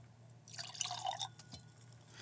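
Buffalo Trace Kentucky straight bourbon whiskey poured into a glass, a short, quiet liquid trickle with bright splashing that lasts under a second over a low background hum.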